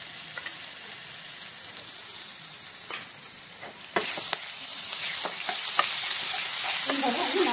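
A steady hiss rises from cumin seeds, garlic and ginger paste frying in a pan over medium flame, with repeated spoon scrapes and clicks from stirring; the sizzle grows louder midway and stays close.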